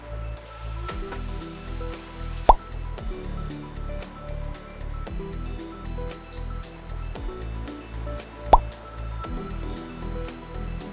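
Water poured into a measuring cup in a science lesson, with soft drips and plops and a couple of sharp clinks, faint and close.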